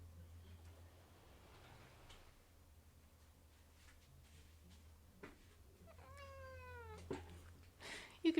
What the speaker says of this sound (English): She's allowed to be a cat, and she is often a loud cat.